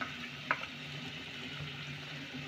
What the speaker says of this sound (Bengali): ভালো করে নেড়ে নেব, মিশিয়ে নেব সব মশলাগুলো।